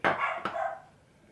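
A dog gives two loud, close barks in quick succession, the second trailing off into a short whine, with no one talking.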